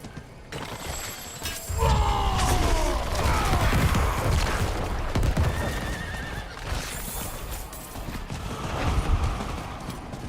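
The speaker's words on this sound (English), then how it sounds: "Why do you have an extra horse following you?" In Diablo 4, a horse gives a loud, descending whinny, followed by steady clip-clopping hooves and clanking gear, with a few more snorts and neighs over the moving hoofbeats.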